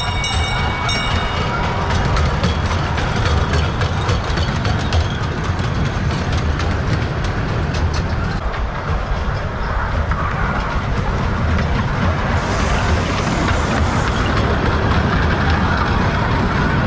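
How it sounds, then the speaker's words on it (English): A small train on a little railroad at a steam engine show rumbles steadily along the rails, a continuous loud clatter with rhythmic clicks, close by and with no talking. "Ederville even has a small railroad"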